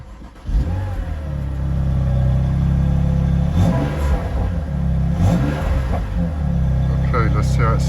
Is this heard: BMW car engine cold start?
yes